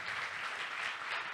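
Audience applause at an anime convention's closing ceremony, a brief steady wash of clapping at moderate distance, fairly quiet and continuous without a clear break.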